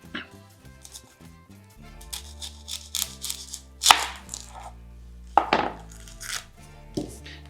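Knife chopping tomatoes and a peeled onion on a cutting board, sharp irregular close-up strikes that grow louder and more forceful in the second half.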